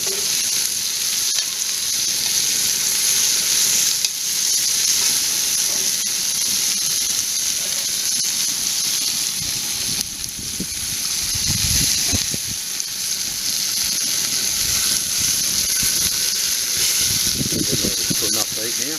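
Steak browning in a hot camp oven gives a steady, loud sizzle and hiss throughout, with a few scraping and handling noises while someone talks over it.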